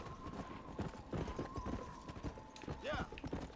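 A horse's hooves clop rhythmically at a gallop in the Western video game Red Dead Redemption, with a brief whinny partway through and someone talking over the hoofbeats.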